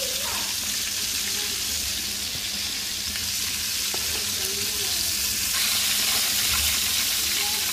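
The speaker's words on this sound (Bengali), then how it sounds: "আর মাথা দুটো পরে ভাজতে দিয়ে দিব আবার।" Two rohu fish heads sputtering in hot oil in a pan, a strong, unbroken sizzle up close that swells slightly toward the end, with a few light knocks of a utensil.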